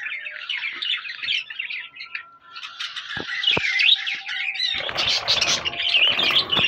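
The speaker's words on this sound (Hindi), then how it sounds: "और ये हमारे पास फिंचेस हैं।" Pet finches chirp and twitter steadily in short, bright, rapid bursts at close range, with a few sharp clicks and a rustling patch near the end.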